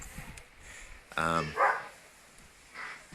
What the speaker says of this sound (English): The neighbor's dog is going nuts.